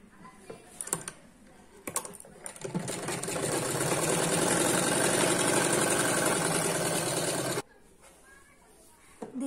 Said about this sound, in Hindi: इसको यहाँ से फोल्ड करके इस पर सिलाई चला देंगे।